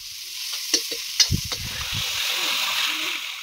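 Onions dropped into a pan of frying spices, dried chilli, ginger and garlic for a vegetarian lentil dish: a few thumps and splattering clinks as they land, then a steady hiss and sizzle as they fry, with no speech.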